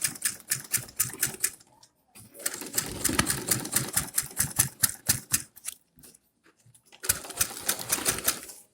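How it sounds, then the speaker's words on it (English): A sewing machine stitches a transparent fashion bag in rapid, even needle clatter, running in three close bursts with short pauses between them. "so just sew it all the way down"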